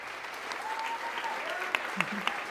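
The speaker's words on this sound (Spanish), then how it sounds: "denle un súper aplauso a Andrea" Audience applause welcoming a guest onto a student-run program stage, a broad steady wash of clapping at moderate level with a few sharper claps standing out near the end.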